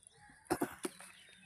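A hen in a vegetable garden among chili plants gives three short, close clucks in quick succession over quiet background noise.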